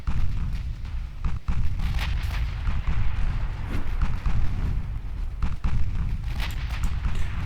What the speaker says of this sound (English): The light cruiser is firing at me